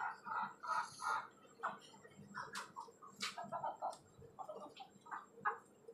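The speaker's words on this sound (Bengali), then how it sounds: "এখান থেকে একটা মুরগি ডিম পাড়তেছে" Desi and tiger chickens kept in a cage, with a hen laying eggs, give soft, quiet clucks in short irregular bursts against a faint background.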